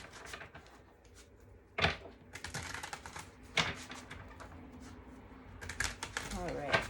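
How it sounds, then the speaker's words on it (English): A deck of tarot cards is shuffled in quick, crisp bursts of riffling and flicking, separated by short pauses, with soft talk faintly present between the bursts. "I'm going to shuffle just a bit more for you"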